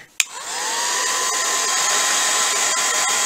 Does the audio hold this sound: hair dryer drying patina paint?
yes